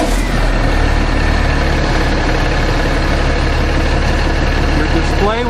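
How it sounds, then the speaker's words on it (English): A fire pump truck's diesel engine runs at a steady, loud idle, a constant low rumble with a faint whine above it, holding even for the whole stretch with no talk. "We can then start the engine. We're going to be in the idle mode to start with."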